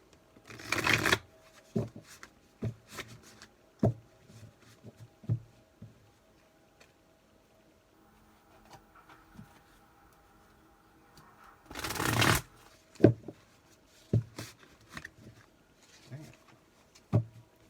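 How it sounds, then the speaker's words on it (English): Large tarot cards are shuffled in fits and starts, soft slides and taps broken by two louder riffling bursts, close by and fairly quiet. "Let's see if I can shuffle them."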